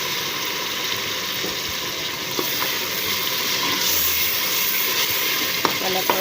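Daal mash with chicken in a handi sizzles loudly and continuously after water is sprinkled over it, with a few faint clicks of utensils against the pot.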